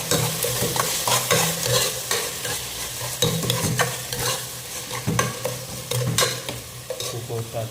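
Tomatoes sizzle in hot oil for a milk fish curry while a spoon stirs and scrapes the pan in steady, repeated strokes, close and loud with no talking.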